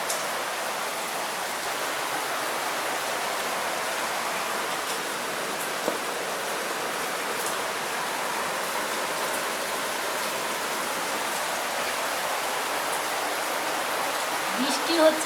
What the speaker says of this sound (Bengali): বৃষ্টি হচ্ছে বাইরে প্রচুর।